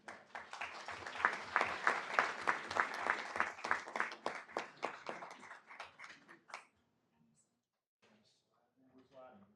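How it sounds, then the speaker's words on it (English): A round of applause at a city council work session in Concord, clapping from the room for several seconds before fading out, with voices beneath it. "So how about a round of applause for these guys?"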